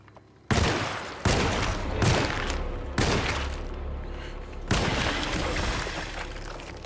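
Several loud, booming gunshots in the video game Alone in the Dark ring out at irregular intervals in a cemetery, each followed by a long rumbling echo.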